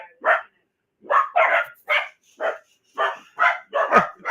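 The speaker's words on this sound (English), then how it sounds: "And the dogs go off." Several dogs bark in short, loud bursts, about eight sharp barks with uneven gaps and a yip near the end, close by with no talk over them.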